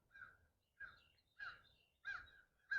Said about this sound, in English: Oh, these crows, they're so loud.